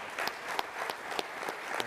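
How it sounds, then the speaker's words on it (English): Applause from an audience at a military warfighter summit, honoring panel members; steady, moderately loud clapping from the crowd, with a few sharper individual claps standing out across the short stretch. "could you please give us a round of applause?"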